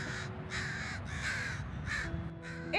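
Several crows caw in repeated bursts on an Oregon seaside beach, loud and fairly close, with steady surf-like noise underneath.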